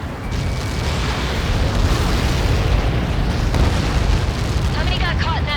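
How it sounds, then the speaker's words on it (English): A massive projectile impact explosion in the flight combat game Ace Combat 7 produces a loud, sustained, rumbling roar that fills the whole stretch without letup. A faint radio voice emerges near the end. "How many got caught in that explosion?"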